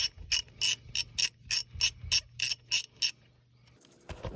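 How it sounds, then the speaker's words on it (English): A ratchet with a 14mm socket clicks in a quick steady run of about a dozen sharp ratcheting strokes while loosening clutch slave cylinder mounting bolts, then stops, leaving a faint clunk. "we'll get the 14mm socket onto those mounting bolts and get it out"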